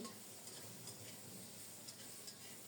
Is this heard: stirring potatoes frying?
yes